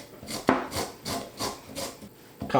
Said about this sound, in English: Now I need to make my marinade, and I want to grab some lemon zest.